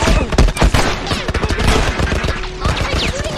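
Rapid gunfire from the video game The Last of Us, a dense, loud burst of overlapping shots with crashing impacts, mixed with indistinct voices throughout.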